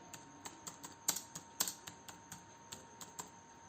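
Code being typed on a computer keyboard, a steady run of light, close key clicks with a few sharper, louder strikes mixed in, heard alone without talk.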